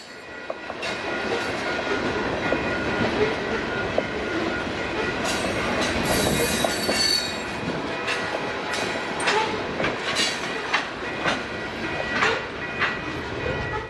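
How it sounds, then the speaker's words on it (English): NECR freight train led by locomotive 3015, a specially painted veterans-honor unit, rolling past a grade crossing on the Palmer Sub in spring; steady loud rumble and clatter of cars with bright wheel squeals throughout, fairly close. "Leading this train was NECR 3015, a one-of-a-kind unit specifically painted to honor veterans and service members."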